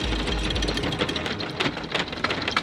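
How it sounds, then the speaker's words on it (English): A sailboat's electric anchor windlass runs steadily with a rattling, mechanical drone, close and fairly loud, as chain is hauled in with the starboard engine on. "The anchor windlass didn't work at first, but I just forgot the Starboard engine needs to be on"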